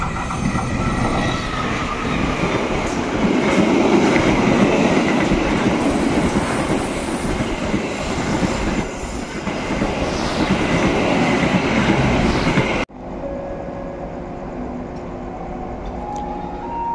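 Kutojaya Selatan passenger train rolling along rails, a loud, steady rumble and wheel roar heard from inside the carriage, with faint squeals and a sudden drop to a quieter hum near the end.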